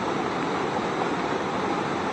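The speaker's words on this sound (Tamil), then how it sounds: "இந்த இடத்துல பாருங்களேன், எவ்வளோ ஒரு அருமையான அருவி சூப்பராக ஊற்றிட்டு இருக்குது" A waterfall on the Agasthiyar mountain trail pours in a steady, dense roar of rushing water, close and continuous throughout with no voices.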